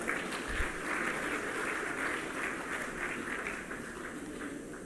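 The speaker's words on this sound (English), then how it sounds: "Round of applause." Audience applause at the Asia Petrochemical Industry Conference, a soft, steady patter of many hands clapping in a large hall, fairly faint and continuous.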